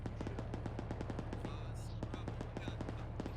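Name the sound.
sniper rifle gunshot in the video game Arma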